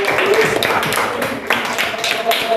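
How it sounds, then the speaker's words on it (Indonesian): A classroom of students applauds for a classmate, giving steady, dense clapping at close range that holds evenly throughout. "Tepuk tangan buat Riki"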